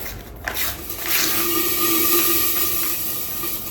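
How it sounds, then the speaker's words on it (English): A popcorn kettle hisses and rumbles loudly as it runs, a steady steamy whoosh with a faint sustained hum building after a sharp click at the start, close by and without talking. "my kettle's making noise, saying, give me some more popcorn."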